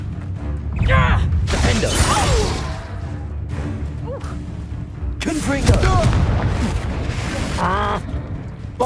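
A spell cast in the Hogwarts Legacy video game, layered with whooshes, booms and shattering bursts in repeated loud waves over a continuous game soundscape, with voices calling out among the effects.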